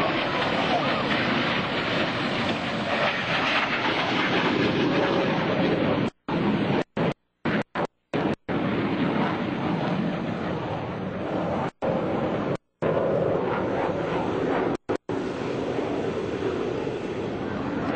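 Navy Blue Angels jets perform an opposing knife edge pass at the 2002 NAS Oceana Airshow, making a sustained broad roar with brief cut-outs, and a voice is heard over it.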